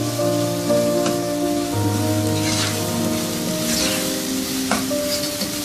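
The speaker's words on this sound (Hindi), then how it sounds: "2 प्याली बारीक कटा हुआ सब्ज़ प्याज। ये वाइट वाला पोर्शन पहले इस्तेमाल करें। 2-3 मिनट इसको सौटे करेंगे।" Finely chopped green onion, the white portion, sautés in hot oil in a pan with a steady close sizzle, crackle and occasional stirring, and no voices.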